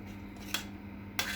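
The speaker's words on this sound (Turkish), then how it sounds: "Tekrar karıştırıyorum." A utensil scrapes and clinks against a pot while béchamel sauce seasoned with salt and black pepper is stirred, two brief knocks standing out over a low steady hum in a quiet kitchen.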